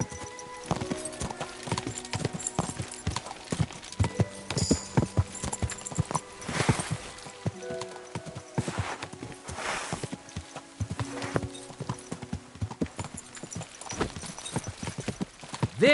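Horse hooves clip-clop steadily in Kingdom Come: Deliverance II, a close, rhythmic run of sharp hoof strikes that carries on throughout with faint rustling and other game sounds behind it.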